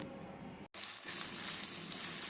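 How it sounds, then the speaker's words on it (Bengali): Steamed vegetables frying in white oil in a pan over high flame, a loud steady sizzle broken once by a brief gap, no speech. "হাই ফ্লেমে 3-4 মিনিট আমি এই ভেজিটেবল ভেজে নিচ্ছি।"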